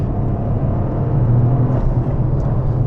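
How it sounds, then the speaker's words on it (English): A turbocharged Toyota GR Corolla pulls hard with a loud, close, steady low engine rumble and drone heard from inside the car, without any distinct whistle standing out. "I'm letting him enjoy the turbo noises there instead of me mimicking them"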